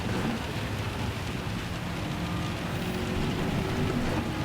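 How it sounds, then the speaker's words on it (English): Heavy rain in the racing game Gran Turismo 7 during a Le Mans endurance race, a dense steady hiss of downpour with a low rumbling car engine underneath, continuous and even throughout. "Rain is picking up, it's getting deeper."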